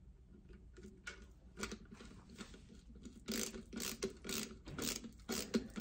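A screwdriver driving a screw to fit a strap button with a rubber washer onto a ukulele, faint close-up squeaks and ratcheting turns in short repeated bursts, growing busier toward the end.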